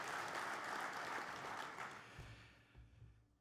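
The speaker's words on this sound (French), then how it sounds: "Oui, on peut l'applaudir, Claire." Applause from a political assembly audience, steady at first and then thinning and fading out over a few seconds.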